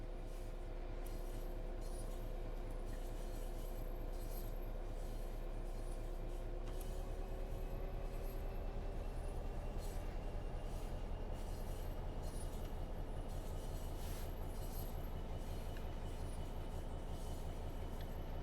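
A Class 350 electric train departing in a railway simulator game, steady rolling rumble of wheels on rails with rhythmic clicks and a rising motor whine, continuous and moderately close.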